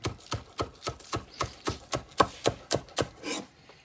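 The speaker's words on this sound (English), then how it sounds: "you're just chopping down like this" Steady rhythmic chopping of food with a chef's knife on a board, about a dozen crisp knife strikes at an even pace, close and clear with no voices.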